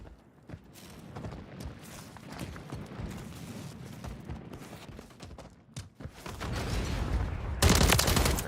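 Rapid gunfire bursts crackle through a Modern Warfare 3 match, moderately loud and continuous, mixed with footsteps and a louder burst near the end.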